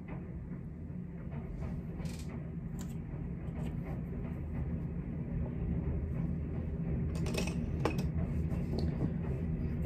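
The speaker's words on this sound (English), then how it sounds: "If you guys can hear the train" A train passes outside, heard indoors as a steady low rumble with faint metallic clanks and rattles, continuous and moderately distant, with no talk.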